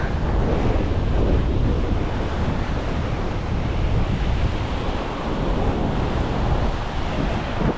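Strong wind blows hard outdoors among trees along a path toward a river, a sustained loud roar buffeting the microphone that surges slightly and never lets up.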